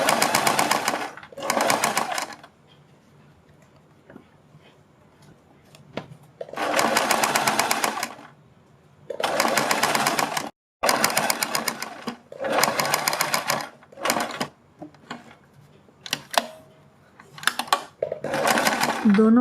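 A sewing machine stitches neck strips onto a kurti in several separate bursts of fast, buzzing whir, loud and close, separated by quiet pauses with faint handling.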